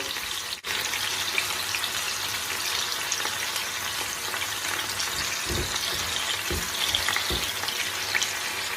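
Skewered chicken tikka sticks cooking in a hot pan: a continuous hissing sizzle, with a sharp knock near the start and a few soft thuds later as the pieces are moved.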